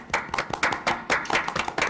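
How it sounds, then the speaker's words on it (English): Small group at a school board meeting claps in a brief, uneven burst of individual hand claps, close and distinct rather than a full roaring applause. "Let's give him a round of applause."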